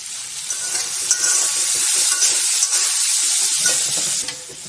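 Spice paste frying and stirred in a pan while cooking jackfruit seeds with greens, a continuous bright sizzle with occasional scraping strokes, close and loud with no voices.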